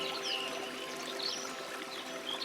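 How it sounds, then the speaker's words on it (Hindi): Flowing water and a distant waterfall in a natural outdoor setting, a steady, even rushing wash that continues without pause, moderately loud and heard alone. "थोड़ी दूर से आपको पानी की, झरने की आवाज़ें आ रही हैं।"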